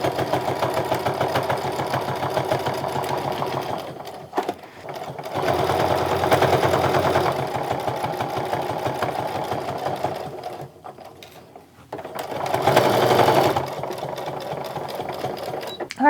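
A sewing machine stitches fabric for a handmade wallet, whirring in fast rhythmic bursts that stop and restart several times, close and steady, with brief pauses between runs.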